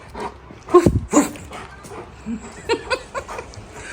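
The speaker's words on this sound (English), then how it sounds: "Bark at your dogs." A dog gives a few close, sharp barks and whimpering yelps, mixed with a person's playful voice and light laughter.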